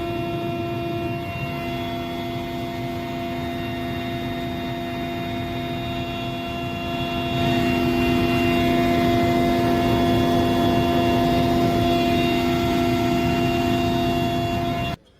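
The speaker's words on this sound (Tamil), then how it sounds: "ஹெலிகாப்டர் மூலம் ஆய்வு செய்தார்" A helicopter flying over flood-hit Wayanad, Kerala drones steadily for the whole stretch, a constant engine roar with a high whine, swelling a bit louder partway through before cutting off.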